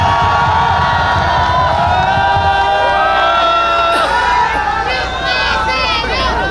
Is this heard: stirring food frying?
no